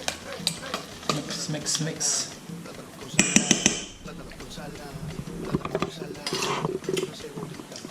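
A fork stirs and mashes platano con salami in a bowl, with repeated scraping and clinking strokes and a brief louder clatter midway. A voice is heard now and then.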